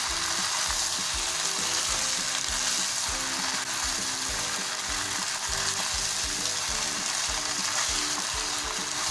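Chicken and vegetable fried rice sizzles loudly in a hot pan while ketchup is stirred through it, giving a continuous frying hiss with a steady rhythm of scraping stir strokes.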